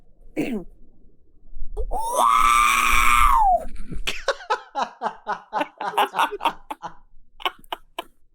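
A voice imitates an R2-D2 scream: a short squeal, then a long, loud wailing shriek with a rising and falling pitch, followed by a burst of rapid laughter and snickering.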